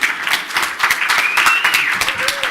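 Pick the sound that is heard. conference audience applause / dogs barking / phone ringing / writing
conference audience applause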